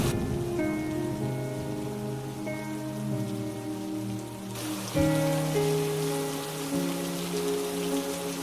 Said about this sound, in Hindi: गांव में भयंकर बारिश शुरू हो गई।